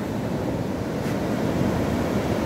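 Big ocean waves driven by a strong rip current roar in a loud, continuous wash of surf, with wind buffeting the microphone throughout and no voices.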